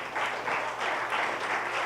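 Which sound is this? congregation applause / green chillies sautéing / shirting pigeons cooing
congregation applause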